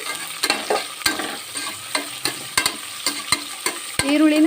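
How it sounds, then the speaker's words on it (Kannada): Long-sliced onions fry and are stirred in a hot pan, giving a steady sizzle broken by repeated close spatula scrapes and knocks, with no talking. "ಸ್ವಲ್ಪ ಹುರ್ಕೊಳ್ತೇನೆ ಈರುಳ್ಳಿ"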